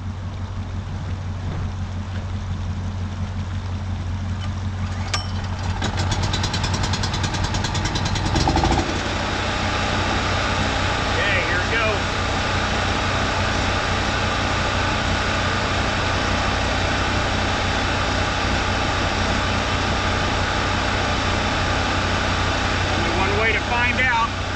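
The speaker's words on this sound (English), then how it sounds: "So we have our drill pump right here." A drill-driven pump pushes water into an RV. A steady, loud motor whine starts after a few seconds and holds without a break, with a continuous broadband rush over a low hum, close to the microphone.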